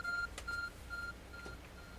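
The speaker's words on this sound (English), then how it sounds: "There's a glowing beeping object over there." Arc phone in the Pokemon Legends Arceus video game gives off a sequence of short electronic beeps in an uneven rhythm, clear and fairly quiet, with no voices.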